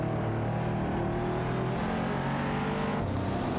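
Race cars battling wheel to wheel in a racing video game, including a Jaguar XJ220, a loud continuous engine roar and drone filling the whole stretch with no talk.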